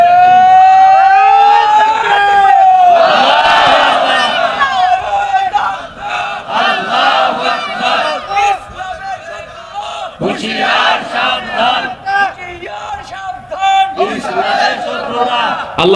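A crowd at an outdoor Islamic sermon shouting slogans in loud group bursts, traded back and forth with a preacher's strained, amplified calls.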